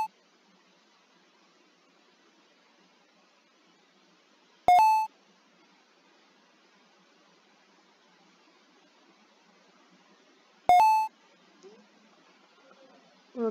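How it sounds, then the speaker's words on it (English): Two sharp, loud electronic beeps mark incoming text messages in the horror game Five Nights at Candy's 2, spaced about six seconds apart over a near-silent background. "Okay, text message."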